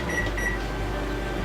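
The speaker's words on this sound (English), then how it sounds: "We're gonna go ahead and preheat the oven to 400." A kitchen oven being set to preheat to 400 degrees for molasses cookies gives two short electronic beeps close by, over a steady low hum, with no talking.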